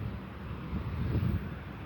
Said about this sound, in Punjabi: ਬੂੰਦਾਬਾਂਦੀ ਜਿਹੜੀ ਸ਼ੁਰੂ ਹੋ ਚੁੱਕੀ ਹੈ ਇਸ ਦੇ ਨਾਲ ਤੇਜ਼ ਹਵਾਵਾਂ ਨੇ